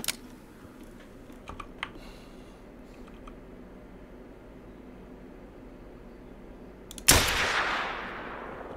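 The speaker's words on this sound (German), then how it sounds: "Ein Schuss." A single loud pistol gunshot in the hunting game theHunter: Call of the Wild, fired at a red deer, with a sharp crack and a long echoing decay near the end, preceded by quiet keyboard clicks.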